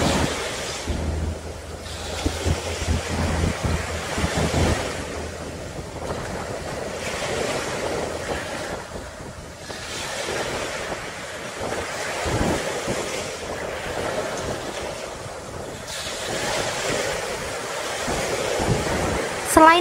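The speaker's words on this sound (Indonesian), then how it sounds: "mendengarkan deburan ombak Pantai" Waves breaking against coral rocks at Pantai Dadapan, a hidden beach in Wonogiri, with steady sea wind; a continuous, rolling surf roar buffets the microphone throughout, with no talking.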